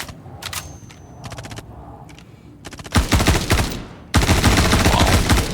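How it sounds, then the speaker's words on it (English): Gunfire in the video game Star Citizen: scattered single shots at first, then sustained loud automatic bursts rattling close by, with no voices over them. "Looks cool, seeing the gunfire."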